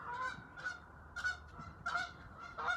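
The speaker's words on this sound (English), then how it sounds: "There goes a goose." A goose honks outdoors, a string of five or six loud, nasal honks in uneven rhythm, close and clear, with no talking.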